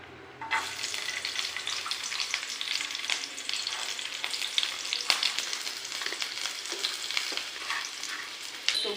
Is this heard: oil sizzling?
yes